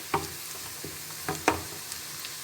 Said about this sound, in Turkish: Soğanımızı da karıştırayım bu arada da yanmasın.